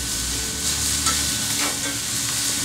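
Chicken fajitas sear on a Yoder YS640 grill set to about 405 degrees, with a loud, steady sizzle and occasional soft scrapes and knocks from turning the meat.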